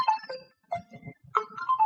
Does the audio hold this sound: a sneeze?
no